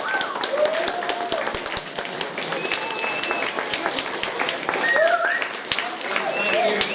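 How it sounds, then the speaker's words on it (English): An audience bursts into sustained applause, a dense wash of many hands clapping at steady loudness, with scattered cheers and whoops rising through it. "a big round of applause for"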